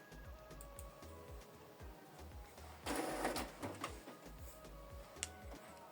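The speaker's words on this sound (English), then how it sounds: "So the document is printing." A Canon Pixma TS5350i inkjet printer printing an A4 document: a quiet, steady mechanical whir with rhythmic pulsing clicks of the print head, and a brief louder burst of paper feed noise midway.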